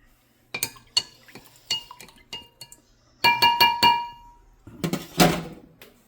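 A spoon clinks and scrapes against a glass container while stirring pickled onion brine, with scattered sharp taps followed by a quicker burst of clattering strokes, close and fairly clear.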